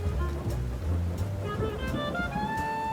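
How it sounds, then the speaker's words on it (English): Heavy rain pours down at an outdoor model aircraft festival, a dense steady wash of noise with low rumble underneath and a few faint tonal hums mixed in, continuous and without voices. "as we were setting up, man, it rained really hard"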